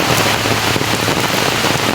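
Heavy rain pouring down steadily, a dense, loud hiss of drops on surfaces close around, continuous and without pauses.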